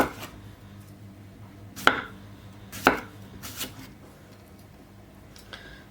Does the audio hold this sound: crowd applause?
no